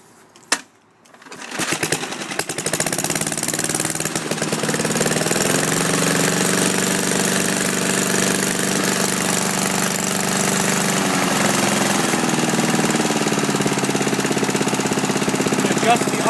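A small engine starts with a brief crank and settles into a loud, steady idle with an even, rapid putter throughout, its pitch shifting slightly partway through.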